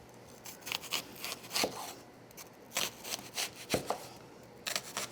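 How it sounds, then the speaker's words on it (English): Knife slicing an onion crosswise into half-inch slices on a cutting board, a run of short crisp cuts in uneven rhythm, close and clear with no talk. "So I'm gonna cut my onion across"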